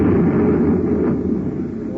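Radio drama sound effect of an explosion in a laboratory, a loud low rumbling roar that holds heavy and sustained before slowly thinning out.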